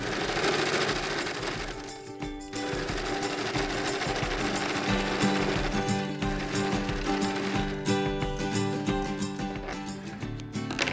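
An old, simple black sewing machine runs steadily, stitching down a fabric bias binding with a fast, even mechanical chatter that continues almost without a break and pauses only briefly.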